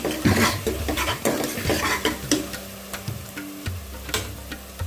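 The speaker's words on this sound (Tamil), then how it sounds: "நல்லா ஒரு மிக்ஸ் பண்ணிவிட்டு" Tomatoes being stirred in a cooking pan for spinach and broad bean sambar, with repeated scraping strokes and soft sizzling, a steady close rhythm of utensil against pan and no talk.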